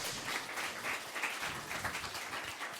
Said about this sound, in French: Est-ce qu'on peut l'applaudir de nouveau